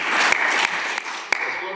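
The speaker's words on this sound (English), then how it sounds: "I think that deserves applause." Brief applause from a conference audience, scattered hands clapping with a few distinct loud claps, mixed with talk and chatter.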